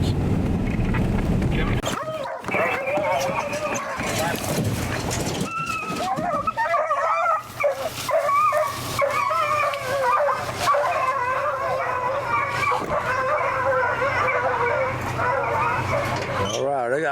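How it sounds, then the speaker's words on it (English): Deer hunting dogs baying and yelping on a fresh deer trail outdoors, their cries overlapping in rising and falling howls at moderate distance, following a brief burst of wind or handling noise. "Some of the deer dogs are on it."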